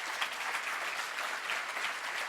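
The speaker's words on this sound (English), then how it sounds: "Come on, let's everybody give them applause." Steady, dense applause from a large audience at a hackathon opening ceremony, heard alone at moderate loudness for a couple of seconds without a break.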